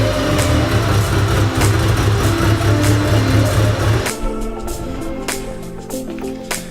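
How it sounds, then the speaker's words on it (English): A Mitsubishi Evo's engine rumbles loud and close as the car is driven back into a garage, a steady low drone that drops off abruptly partway through and settles into a quieter, lighter idle. "Let's go ahead and pull the Evo back in."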